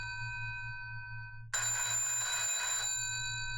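A telephone rings during a radio call-in show, a sustained bright ringing tone that starts abruptly and continues loudly over a low steady hum, with no voices.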